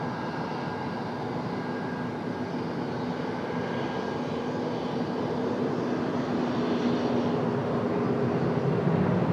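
Aircraft taking off from runway 30 at Dulles airport, a steady, broad engine roar that holds at a fairly even level and builds slightly toward the end, with no talk.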